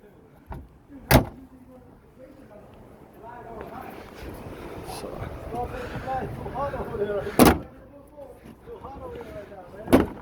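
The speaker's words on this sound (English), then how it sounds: "2017 rear bumper ripped off" A rear bumper on a 2017 Toyota Camry is pulled off its retaining clips, giving three sharp, loud pops spaced several seconds apart, with a low murmur and rustling in between.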